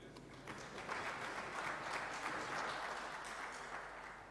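An audience claps for Wakili at a 2024/25 finance bill review event: a steady, dense round of applause from a crowd in a hall, holding evenly for a few seconds.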